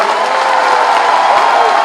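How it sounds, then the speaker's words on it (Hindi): A crowd at a political rally applauds a BJP candidate, with dense, loud, sustained clapping and some cheering filling the whole short moment. "एक बार जोरदार ताली इनके लिए बजा दीजिए थोड़ा"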